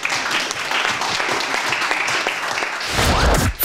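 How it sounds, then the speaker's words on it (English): Studio audience applause honoring a woman at an award presentation, a sustained burst of clapping that swells louder near the end before cutting off. "A round of applause for Jessica."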